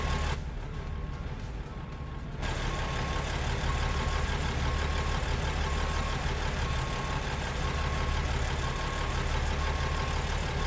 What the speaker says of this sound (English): This truck is so loud, bro.